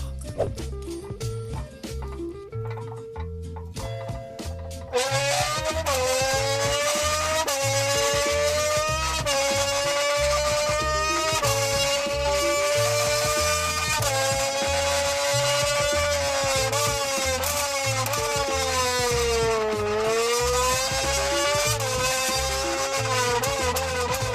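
A voice imitates a Formula 1 car at full speed: a loud, buzzing whine that keeps climbing and dropping in pitch over a steady, pulsing rhythm.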